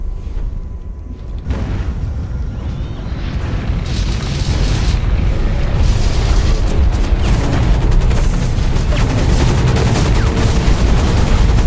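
Hawken mech combat with continuous gunfire and rocket blasts, a dense, loud barrage of booming shots and explosions that thickens after the first two seconds and rumbles on without pause.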